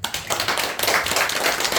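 A church congregation claps during a Sunday morning worship service, a dense, steady patter of many hands sustained throughout at moderate loudness, with no talk over it.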